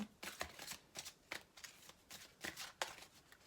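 Angel love oracle cards are shuffled by hand in quick, irregular riffling bursts, crisp papery flutters repeating several times at a quiet, close level with no talking.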